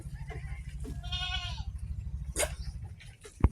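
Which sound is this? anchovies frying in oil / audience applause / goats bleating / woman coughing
goats bleating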